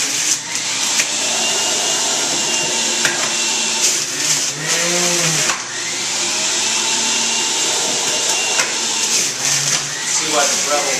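A juicer grinding apple, lemon, ginger, celery, cucumber, cilantro and mint in a classroom setting, a loud steady whine running throughout with brief dips as produce is fed in, while people talk over it.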